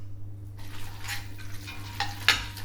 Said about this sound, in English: It does sound a little bit like your pan is screaming.